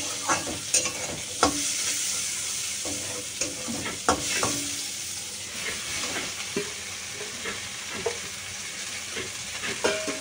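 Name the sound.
jute leaves with jackfruit seeds stirred and frying in pan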